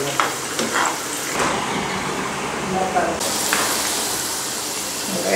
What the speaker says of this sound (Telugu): ఆలు బాగా వేయించుకోవాలి